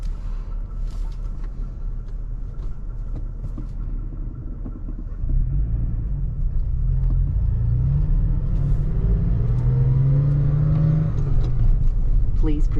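A heavy 2020 Toyota Tacoma 4x4 pickup drives along with a steady low engine rumble that swells and climbs in pitch midway as it accelerates, with cabin road noise and a voice talking over it.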